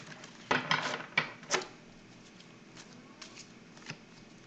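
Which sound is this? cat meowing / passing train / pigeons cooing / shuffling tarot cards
shuffling tarot cards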